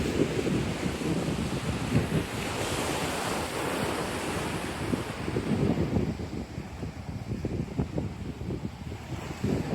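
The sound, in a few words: waves on the beach at Corito Bay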